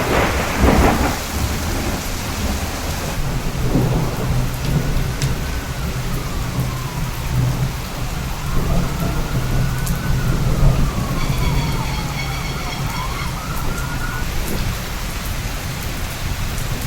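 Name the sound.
tropical storm rain and thunder, recorded with LUMIX DMW-DMS1 microphone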